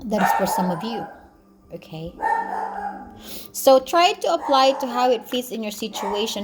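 A dog barks and yips repeatedly in short bursts, mixed with a person talking over it nearby.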